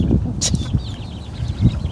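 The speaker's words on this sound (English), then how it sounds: "Chickens, man." Chickens clucking in short bursts close by outdoors, a few brief calls scattered across a moment with low background noise.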